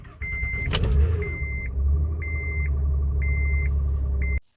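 A 2011 Honda Odyssey with a failing starter, cranking on a cold day: a sharp click then a steady low mechanical drone, close and fairly loud, with a repeating high electronic chime pulsing over it before it stops abruptly.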